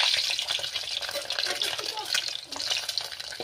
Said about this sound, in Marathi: मी आता हे अंडे असे तेलामध्ये अगोदर फ्राय करून घेते